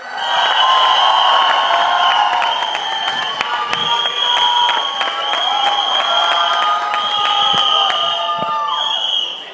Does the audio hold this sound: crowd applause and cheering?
yes